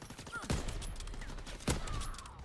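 Gunfire in the video game Call of Duty WW2, two sharp, loud shots roughly a second apart over faint in-game ambience.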